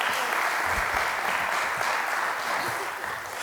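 Sustained audience applause at a climate change symposium, steady and dense across the whole stretch with no pauses, a large crowd clapping together at fairly close range.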